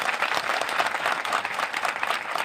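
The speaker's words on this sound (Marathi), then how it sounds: "यांच्यासाठी आणि तुमच्यासाठी आणि माझ्यासाठी एकदा जोरदार टाळ्या वाजा" A crowd claps loudly and continuously at a public speech, a dense even roar of many hands lasting about two and a half seconds with no voices over it.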